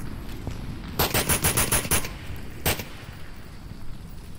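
Video game match gunfire: a rapid burst of about six automatic shots, then a single shot a moment later, loud and close against low background noise, with no talk.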